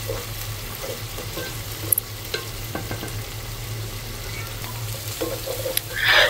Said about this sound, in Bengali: এরপর এখন এই মশলাটা একটু ভালো করে তেলের সাথে মিশিয়ে নিব।